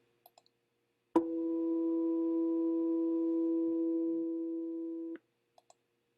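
A steady pair of pure tones forming a true (just) fifth interval sounds for about four seconds, clean and sustained, bracketed by a few soft clicks before and after.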